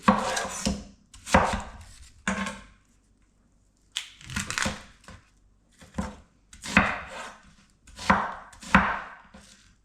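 A knife chops a white onion for restaurant-style salsa, producing bursts of rapid, close, crisp cuts against a board, grouped in clusters with short pauses between them, and no talking.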